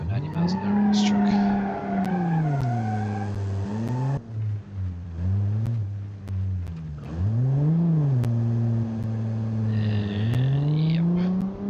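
A truck in a driving video game pushed to 90 miles an hour, engine revving up and down in swooping pitch sweeps with squealing tire skids, loud and close, with a brief dip in the middle before the roar returns.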